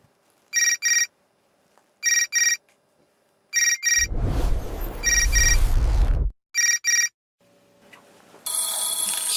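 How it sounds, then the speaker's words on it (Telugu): A telephone call is being placed, with several clear double-burst ringtone rings alone over silence, interrupted by a loud noisy burst in the middle and ending in a steady tone. "ఇప్పుడు మన సింగపూర్కి ఫోన్ చేద్దాం."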